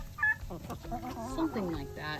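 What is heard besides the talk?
chickens, Rhode Island Red hen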